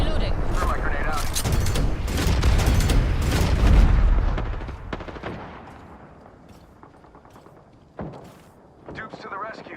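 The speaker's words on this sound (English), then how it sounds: "Throw my grenade out." A grenade explodes in a first-person shooter game, one of several loud booms and bursts of gunfire that fade over a few seconds before another sharp blast.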